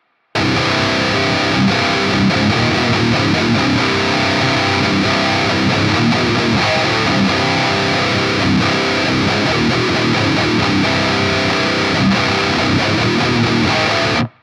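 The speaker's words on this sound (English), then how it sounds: "This one mostly focuses on palm muting and down picking, so try your best to down pick as much of this as possible" A distorted electric guitar plays a metalcore riff, palm-muted and down-picked, in a loud, dense, continuous chug that runs for about fourteen seconds with no talk.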